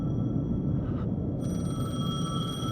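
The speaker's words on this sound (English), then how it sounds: "The payphone was ringing." Payphone ringing in the video game Alan Wake 2, a steady electronic tone that swells in partway through over a dense low rumbling ambience.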